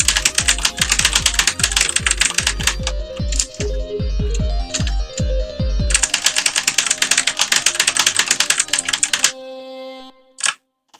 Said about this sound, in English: I'm typing the Roblox player ID.